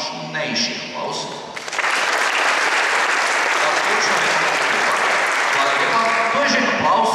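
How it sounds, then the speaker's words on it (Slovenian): Audience applause at a municipal New Year reception in Ljutomer, a dense, loud, sustained clapping from a crowd that swells after a quieter opening and holds steady. "Zdaj bi vas prosil za še malo močnejši aplavz."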